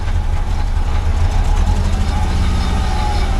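A 2003 VW Beetle pulls away in first gear, a steady low engine drone filling the clip, close and loud with no clear change in pitch.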